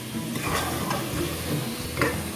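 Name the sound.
sliced tomatoes added to sizzling pan for chana daal gosht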